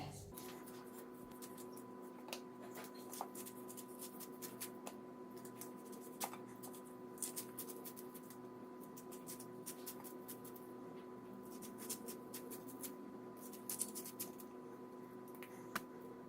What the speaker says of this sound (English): I'm going to go ahead and quickly cut up the corn